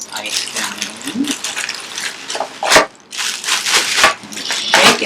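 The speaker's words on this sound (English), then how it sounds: "Put this down in so I can pour some of this ice down in" Ice poured into a bag rattles and crunches in uneven clattering bursts with brief pauses between pours, loud and close, while someone speaks.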